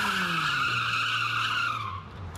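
A rear-wheel-drive car drifting around a big traffic circle in Germany gives a long, loud, continuous tire squeal with engine tone underneath, tapering off near the end.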